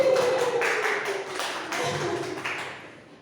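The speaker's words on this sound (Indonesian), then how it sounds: "tepuk tangan dulu Bapak Ibu" A small group of teachers claps in scattered bursts, the hand claps tapping unevenly and fading toward the end, with someone talking over them.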